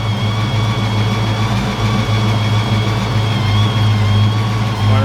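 A Ford Mustang Foxbody engine idles slightly lean, a steady, close, continuous low rumble with a faint whine on top that holds even for about five seconds, with no talking over it.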